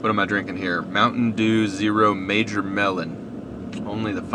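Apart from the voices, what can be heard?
None of the usual background noises is heard.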